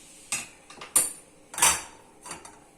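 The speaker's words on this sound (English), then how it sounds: "Again put the pan over here." A cooking pan clanks down onto a stove during masala upma preparation. Four or five sharp metallic knocks and scrapes come close together, close-up and fairly loud, with no talking.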